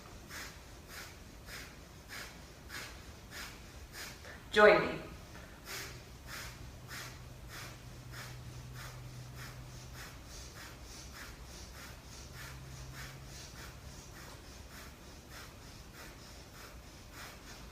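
A long run of quick, evenly spaced sniffing breaths through the nose, steady and close, with a louder breath partway through and brief speech.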